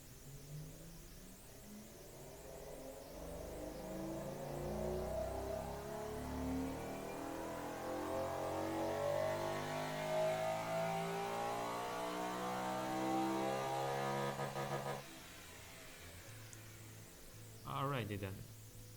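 Simulated car in the Automation game with long turbo headers, dual exhausts and straight-through mufflers, revving steadily up to around 8100 rpm peak power. Its loud, rising engine note cuts off abruptly, then a brief second rev follows.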